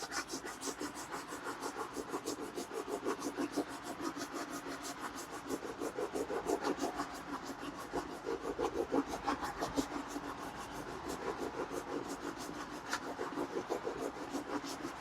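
A new woodworking chisel held in a brass-wheel honing guide is pushed back and forth on a sharpening stone, giving a steady, even rasping rub stroke after stroke, close but quiet, with no talking.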